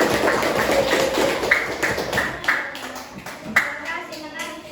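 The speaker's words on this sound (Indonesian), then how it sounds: "Tepuk tangan." Classroom of students clapping hands, scattered and uneven claps that thin out into a few separate louder claps, with children's voices murmuring underneath.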